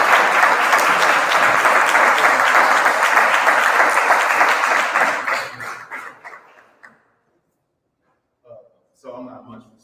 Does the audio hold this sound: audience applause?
yes